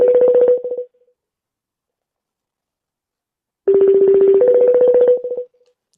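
Telephone call being placed: two bursts of electronic dialing tones, a short one and then a longer stretch, separated by several seconds of silence, clear and close with no voices.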